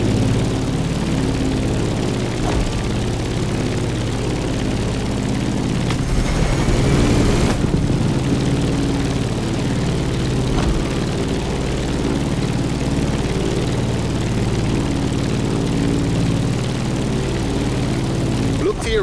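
Airplane climbing in The Crew Motorfest video game, a constant droning propeller engine hum with a low rumble that holds steady, and a brief whooshing swell partway through.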